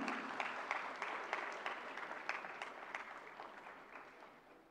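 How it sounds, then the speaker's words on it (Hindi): Applause for the Jammu and Kashmir team coming onstage to receive an award at a health-sector ceremony, fairly faint and distant, a steady patter of many hands that fades gradually toward the end. "जोरदार तालियां हो जाएं जम्मू और कश्मीर के लिए।"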